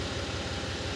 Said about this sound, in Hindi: तो ट्रैक्टर हो गया स्टार्ट